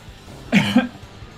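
A single short, harsh cough rings out close by against a quiet background.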